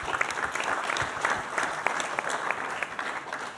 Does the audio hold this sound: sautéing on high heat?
no